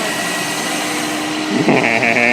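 A 1.5-liter Toyota Echo engine runs steadily at a fairly loud idle, then revs up with a rising, buzzy tone near the end.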